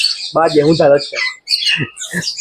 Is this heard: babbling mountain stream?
no